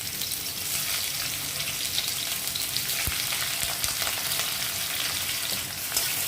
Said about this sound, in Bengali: এলাচ দারচিনিটা ভালো করে ভেজে এবার পেঁয়াজগুলো ভাজতে দিচ্ছি।